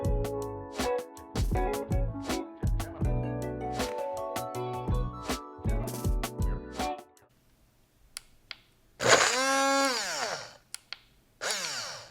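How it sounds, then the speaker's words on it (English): A BlendJet portable blender works on garden salsa, its motor whirring in a run of short choppy pulses, then a quiet pause and one rising, straining whir, close and loud. "I'm going to see how good I can blend up this garden salsa in the BlendJet"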